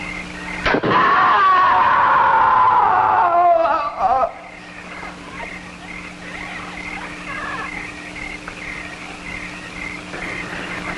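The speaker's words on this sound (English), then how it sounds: "I'm sure I heard a scream." A loud, wavering high cry from a jungle film scene rings out for about three seconds, rising then sliding downward, followed by quieter ambient background with low hum and faint chirping.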